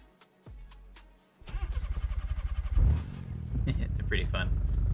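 Turbocharged little 4-cylinder car engine in BeamNG cranking over, catching and revving hard with a rhythmic pulsing bark, then settling into a loud rough idle with turbo whistles, a voice talking over it.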